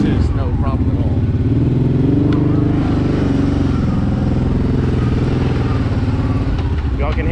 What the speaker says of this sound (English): Y'all can hear the throttle response.